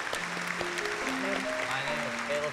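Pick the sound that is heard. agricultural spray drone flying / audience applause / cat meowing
audience applause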